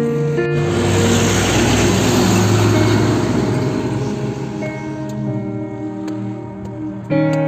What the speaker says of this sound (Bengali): কিতনা গাড়ি যা রহি হে।